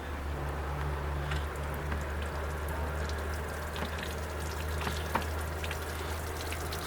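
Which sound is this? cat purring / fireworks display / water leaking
water leaking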